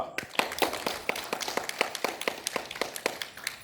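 A group claps in time during a yoga breathing exercise, a dozen sharp hand claps in a steady, fairly quick rhythm, close and crisp with no talk over them.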